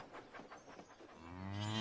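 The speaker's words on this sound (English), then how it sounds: "At Farmer McColl's farm, there are cows and sheep and chickens." A cow moos once, a long low lowing call that swells in loudness toward the end, with no voices around it.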